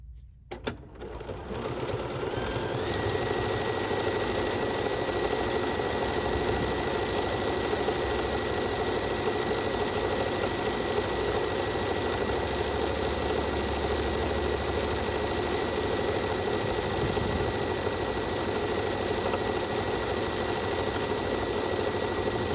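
A Bernina sewing machine stitches decorative scallops in a long, unbroken run, its motor whirring and needle chattering rapidly and steadily at close range after a brief start-up, with no one talking.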